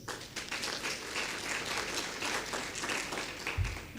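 A room full of people claps for a president-elect at an honours function, a fairly steady moderate applause with a brief low thump near the end.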